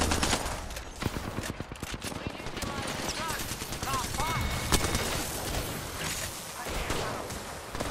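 Rapid bursts of automatic gunfire fill an Apex Legends firefight, dense and continuous with sharp shots layered over game effects, while players talk over the action.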